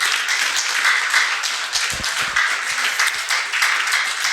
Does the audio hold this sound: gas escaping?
no